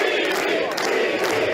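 A packed crowd at a Benjamin Netanyahu election rally shouts and chants together, a dense, loud roar with no pauses.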